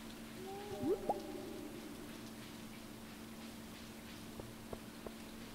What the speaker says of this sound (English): It's really gloomy out right now, but I love it when it rains.